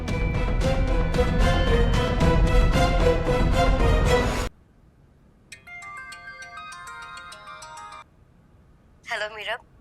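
A mobile phone ringtone plays in a drama scene, a melodic electronic tone pattern heard after loud music ends and before a voice, fairly clear and alone.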